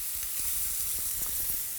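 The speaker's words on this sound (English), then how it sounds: "Grill the kalbi, the butterflied beef ribs, until sizzling and golden brown on the bottom" Butterflied Korean kalbi beef ribs sizzle steadily on a grill, a close, continuous frying hiss with faint pops, no voices.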